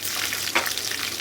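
Curry leaves, cumin, fennel, chili and ginger fry in hot oil, a dense loud crackling sizzle with one sharper burst midway, heard close and alone.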